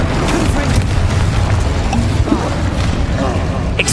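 An Incendio fire spell cast in Hogwarts Legacy, a loud, dense roaring burst of flame that fills the whole moment, layered with low booming game effects and no pause in the noise.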